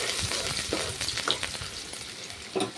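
Chopped onions sautéing in oil in a pan for veg fried rice, a continuous close sizzle broken by occasional spatula scrapes and stirring knocks.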